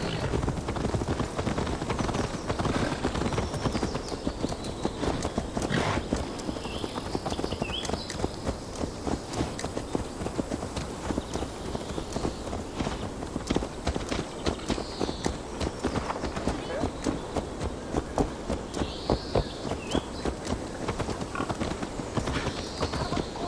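A horse in the video game Assassin's Creed Valhalla clip-clops along in a steady, continuous walking rhythm, close and prominent, with faint whinnies and other background game sounds.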